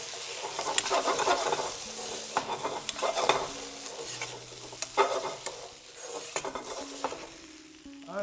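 Okra bhajee being stirred in a hot pan, restaurant style: a continuous close sizzle broken by repeated scraping and clattering strokes of the spoon, fairly loud, with no voices.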